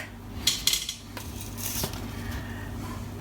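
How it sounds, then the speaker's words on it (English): Light clinks and taps sound as hot scones are set onto a metal cooling rack. A few close, brief contacts come mostly in the first second, then quieter handling follows, with no talking. "We'll just put them on a cooling rack."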